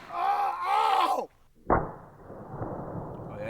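A single sharp, loud gunshot from a super long slide 10mm Glock pistol rings out close by and decays over a few seconds, following a moment of speech and a brief pause.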